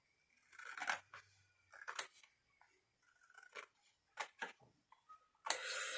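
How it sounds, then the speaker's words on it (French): A paper guillotine cutter (massicot) with a dull blade chops through paper in several short, separate crunching cuts with quiet gaps between them, heard close and alone. "faut que je change la lame de mon massicot"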